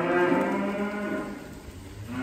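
Several semi-cross beef cows, one an Angus cross, moo on a farm, a loud drawn-out low call filling the first part and fading into quieter lowing and rustle, with no talk.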